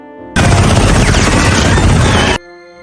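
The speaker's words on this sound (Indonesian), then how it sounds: "Strickland menembak Xenophage itu menggunakan bazooka, tetapi akibat ledakannya menara pengawas jatuh" A bazooka blast and explosion from a Venom superhero film, a sudden, very loud wall of roaring, crackling detonation noise lasting about two seconds before cutting off abruptly into a quiet background.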